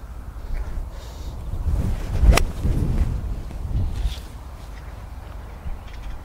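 Hard wind blowing across an open golf course, a steady rumbling gust buffeting the microphone, swelling briefly to a louder peak before settling back to a constant roar.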